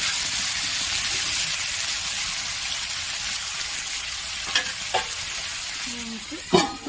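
Ridge gourd and potato pieces fry in oil in a pan with a continuous bright sizzle, close and steady, broken near the end by a few utensil scrapes and a clunk, with no talking.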